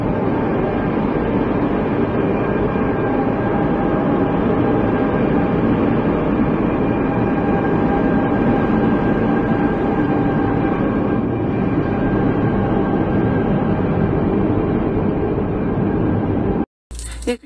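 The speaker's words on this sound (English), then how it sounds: "This clip is one of the many trains in Barcelona" A train in Barcelona rumbles past with a steady, continuous roar and a faint high whine, loud and close, then cuts off abruptly near the end.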